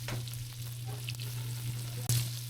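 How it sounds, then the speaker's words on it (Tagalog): Onion sautés in hot oil for pork humba, a constant crackling sizzle close by with light stirring taps and a sharp clink near the end. "Gisahin na natin yung sibuyas."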